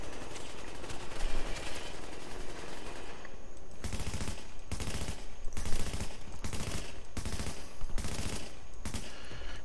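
Video game shootout gunfire: a sustained wash of rapid automatic fire, then repeated loud bursts separated by short gaps, close and prominent with no talking.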